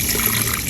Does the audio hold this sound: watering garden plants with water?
yes